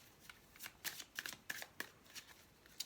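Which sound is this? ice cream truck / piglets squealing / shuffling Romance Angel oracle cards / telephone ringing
shuffling Romance Angel oracle cards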